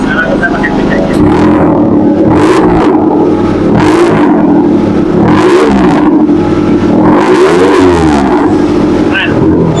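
Suzuki Carry pickup with air suspension and full modifications, its engine revved repeatedly in loud bursts up close, rising and falling several times, with people talking over it.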